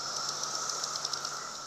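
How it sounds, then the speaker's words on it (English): Male cicadas calling en masse to attract females, a dense synchronized high-pitched buzzing chorus with pulsing swells, steady and loud across the whole stretch. "That noise is the male cicadas trying to attract females with mating calls."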